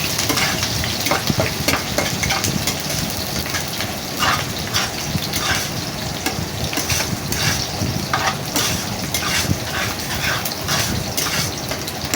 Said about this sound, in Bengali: পেঁয়াজটাকে আমি লাল করে ভেজে নেবো একটু।